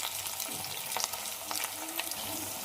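Onions and green chillies frying in a pan for egg curry, giving a steady close sizzle broken by a few soft stirring scrapes and clinks, with no voices.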